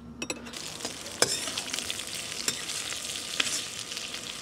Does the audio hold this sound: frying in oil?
yes